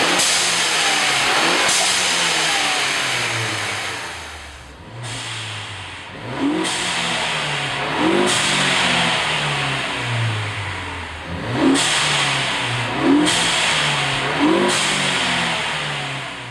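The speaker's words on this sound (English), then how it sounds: "It's the loudest blow-off valve on the market for the ST." A 2013-or-later Ford Focus ST with an aftermarket blow-off valve revs repeatedly, each throttle blip ending in a sharp whooshing release, heard loud and close several times in a row.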